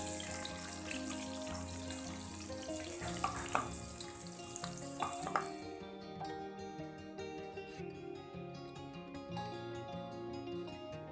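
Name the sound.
chopped garlic frying in oil until light brown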